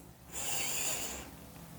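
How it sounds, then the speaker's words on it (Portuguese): A slow, deep breath drawn in through the nose during a guided breathing exercise: a single airy inhalation of about a second, close and fairly soft, with no talking over it. "Inspira pelo nariz"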